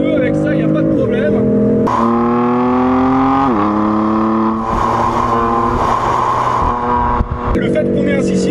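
A BMW M3/M4 twin-turbo six-cylinder engine revs hard and loud, its pitch climbing and dropping through several sharp surges close by.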